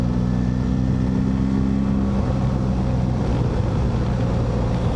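A BMW R1300 GSA motorcycle engine drones loudly and steadily in fifth gear, a constant throaty roar with rushing wind noise throughout, on a snowy winter ride.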